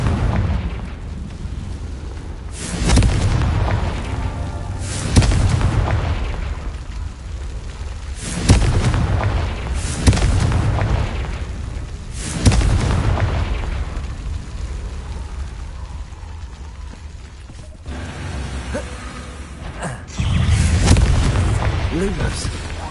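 Confringo fire-spell blasts in Hogwarts Legacy go off as repeated heavy booming explosions every few seconds, dense and loud, with a voice talking among them.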